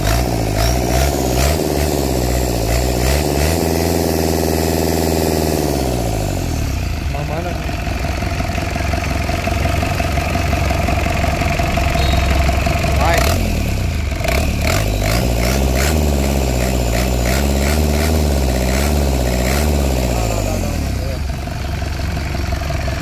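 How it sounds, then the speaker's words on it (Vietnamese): A four-cylinder Mitsubishi K4F turbo diesel engine runs loud and close, its rough idle swelling into several revs that rise and fall, with voices talking over the engine throughout. "Máy nổ rất là đậm luôn"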